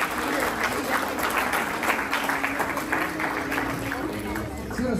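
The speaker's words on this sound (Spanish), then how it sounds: "Aplausos al Señor." Clapping from guests at a quinceañera reception, a sustained wash of many hands across the whole stretch, with a faint voice and a steady electronic tone underneath.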